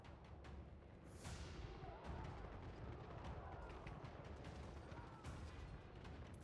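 Artillery fires during a battle in the video game Total War: Warhammer 3, a dense, faint wash of rumbling booms, crackling gunfire and impacts layered into continuous distant battle noise.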